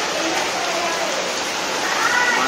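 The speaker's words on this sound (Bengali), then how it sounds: "কি ধরনের বৃষ্টি আরম্ভ হলো দেখুন" Heavy rain pours steadily during an evening Rakhi Purnima gathering, a dense, even hiss that stays loud throughout with no gaps.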